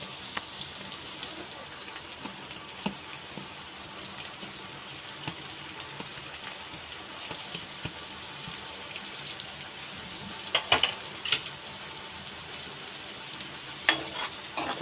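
Chopped onion sizzles and crackles in hot ghee in a pan for green chicken, with steady frying noise throughout and a few sharper scraping stirs near the end, under faint background voices.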